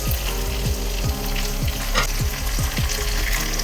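Prawns and curry leaves fry in hot oil with a loud, dense, steady sizzle and crackle, up close, as the food is turned in the pan, with no voices.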